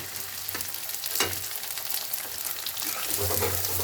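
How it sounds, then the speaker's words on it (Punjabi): Garlic paste and chopped onion frying in a pan, a close hissing sizzle with a few spatula scrapes and a surge as ingredients are added, no talking. "ਹੁਣ ਆਪਾਂ ਜਿਹੜਾ ਪਿਆਜ਼ ਕੱਟੇ ਸੀ ਨਾ ਇਹ ਵੀ ਵਿੱਚੇ ਹੀ ਪਾ ਦਾਂਗੇ"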